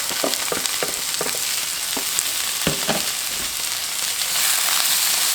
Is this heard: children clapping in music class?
no